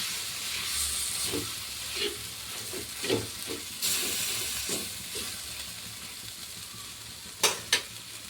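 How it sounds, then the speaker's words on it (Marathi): Tomatoes roast in a covered pan for a spicy bombil thecha, giving a steady close sizzle and hiss with occasional soft knocks and two sharper clinks near the end. "बघा झाले आपले टमाटर छान भाजून गेलेले आहे त्याच्यात"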